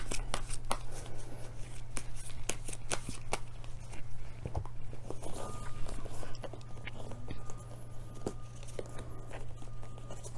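Tarot cards shuffled by hand in a steady stream of dense papery riffles and soft slaps, close and continuous over a low constant hum, with no talk.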